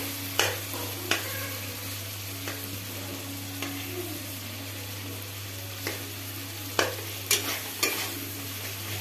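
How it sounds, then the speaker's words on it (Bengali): Spices and melting tomato sauté for a chicken dish, a soft steady sizzle under a low hum, broken by sharp scrapes and clicks of a spoon stirring against the pan at irregular intervals. "আর যেগুলো একটা দুটো গলতে বাকি আছে গলে যাবে, মশলা কষতে কষতে গলে যাবে।"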